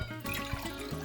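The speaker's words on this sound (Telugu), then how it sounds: "దీంట్లో వాటర్ పోయాలి." Water pours into the base of a moka pot percolator in a brief, close, steady splash with a faint liquid trickle.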